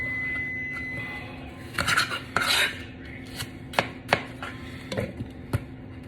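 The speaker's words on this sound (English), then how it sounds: "We're going to go ahead and get these apples all cut up" A knife slices apples into thin pieces on a cutting board, giving a run of crisp, separate chops and scrapes, some close together and some spaced out, close and clear with no talking.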